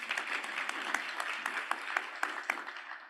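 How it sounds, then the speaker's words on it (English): An audience applauds a government minister at a launch event for an agricultural strategy, producing a steady, moderately loud wash of clapping with scattered sharper individual claps, heard alone throughout. "I think we need to give the Minister a round of applause for that."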